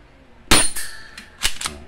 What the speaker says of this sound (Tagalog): Naririnig nyo, tumatama pa sa electric pan.